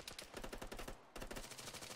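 Machine gun fire in the military shooter game Arma 3, rapid dense bursts of shots hammering continuously with a brief break in the middle, close and punchy.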